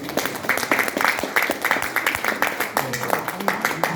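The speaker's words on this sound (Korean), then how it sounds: "다시 한번 박수 부탁드립니다." Applause from an audience at a Korean political party launch event, irregular hand claps rising and falling steadily across the clip, moderately close and fairly dense, with no voices on top.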